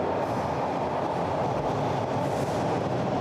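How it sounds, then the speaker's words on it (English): A subway train rolls into the station with a loud, steady rumble and rushing roar, wheels clattering on the rails and a faint squeal rising midway. No one speaks. "The subway coming in like that."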